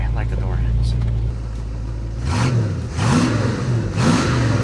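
A 1965 Ford Mustang Fastback engine rumbles close by, then revs in repeated rising and falling surges as the car moves off.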